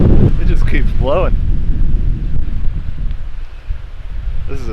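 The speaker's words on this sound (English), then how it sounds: "This wind is something. It just keeps blowing." Strong, persistent wind on a Lake Superior shore during a kayak expedition, roaring and buffeting loudly against the microphone throughout, with a voice speaking briefly over it near the start.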